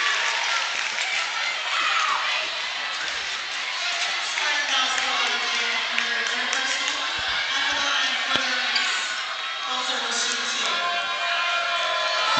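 Basketball crowd at a tournament game roars with loud, sustained cheering and shouting as a player steps to the free-throw line for the lead, a dense wall of noise that fills the whole stretch.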